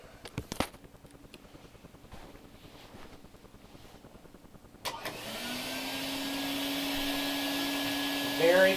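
A 1955 Lewyt Big Wheel canister vacuum, Model 77, switches on after a few seconds of quiet handling and settles into a steady, fairly soft whine and hum while vacuuming a carpet, with a brief louder swell near the end.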